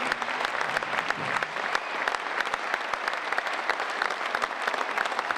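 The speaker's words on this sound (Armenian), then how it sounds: "ես խնդրեմ ծափահարություն եւ թույլ տվեք ծափահարությունների ներքո հրավիրել" An audience at a concert applauds in a steady, dense patter of many hands. The clapping holds at an even level throughout, with no voices heard over it.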